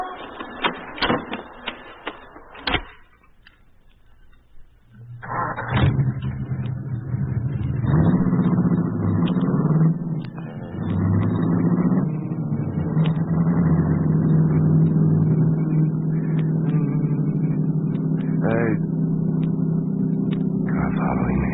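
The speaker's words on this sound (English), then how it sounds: "Car following me." A car engine drones steadily on the road at night, a low continuous hum that rises and holds for many seconds after a few sharp knocks at the start, with a following car in the scene.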